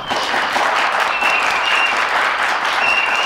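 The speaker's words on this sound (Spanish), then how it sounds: "Pido un aplauso como si fueras el doble." Steady audience applause at a game jam presentation, dense and sustained clapping from a crowd filling the whole stretch without pause.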